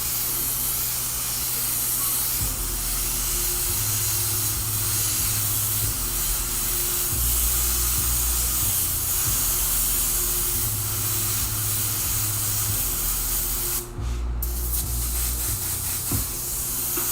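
Steady airbrush hiss of fluorescent neon raspberry paint being sprayed onto a shirt, holding constant for the whole stretch with a low hum underneath and a brief break near the end.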